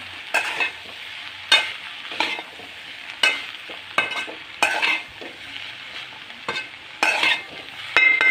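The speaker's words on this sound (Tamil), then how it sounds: "போட்டு கிளறி விடுங்க." A spoon stirs pumpkin and pea poriyal in a frying pan, with about a dozen distinct scraping strokes over a soft steady sizzle, close and fairly loud, with no talk.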